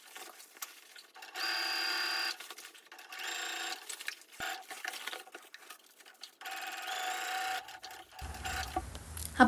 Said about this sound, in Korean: 겉감과 안감 사이에 만들어 두었던 끈도 가방의 가운데 부분에 같이 포개어 고정해줄게요. (1cm) 간격으로 쭉 합봉해주세요.